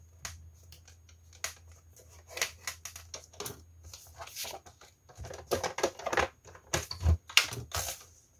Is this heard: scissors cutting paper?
yes